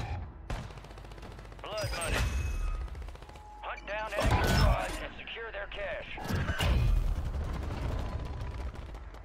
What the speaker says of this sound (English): somebody shooting stuff at me